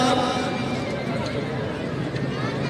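A horse whinnies amid a loud, continuous crowd din at an outdoor horse riding event, with clip-clop of hooves possible beneath; the neigh is brief and partly buried under the general noise.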